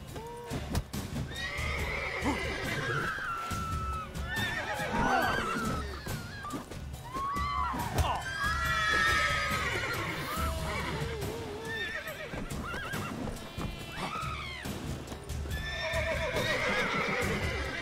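A horse in the video game The Witcher 3 neighs and whinnies repeatedly over clip-clopping hooves, loud and close, with several rising calls spread across a busy, continuous stretch and no talking.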